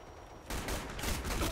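Automatic sniper rifle in the Black Squad shooter game firing a rapid burst, loud close shots that start abruptly after a quiet moment and continue in quick succession.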